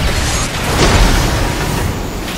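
Weapon fire and explosions from an ambush battle in the mech combat game Armored Core VI, a loud, dense wash of booming blasts and mechanical rumble that swells near the middle and stays sustained throughout.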